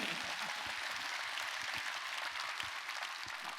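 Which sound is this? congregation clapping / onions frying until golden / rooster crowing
congregation clapping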